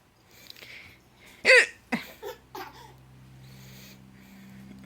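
A baby hiccups three or four times in quick, short bursts close to the microphone, with a soft vocal squeak among them over a quiet, low room hum.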